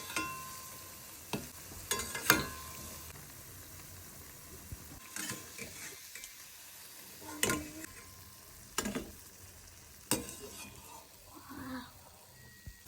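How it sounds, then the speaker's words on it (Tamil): Small donut dough balls fry in oil over a low flame with a soft, continuous sizzle. Occasional clicks and stirring knocks rise above it, with no talking. "இப்போ எண்ணெயில் போட்டுக்கலாம். லோ ஃப்ளேமில் கோல்டன் ப்ரௌன் பண்ணிக்கோங்க."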